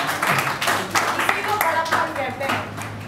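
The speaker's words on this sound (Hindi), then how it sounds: "जोरदार ताली भाई सलाम के लिए" An audience at a poetry gathering claps, a short burst of scattered applause mixed with talk and overlapping voices.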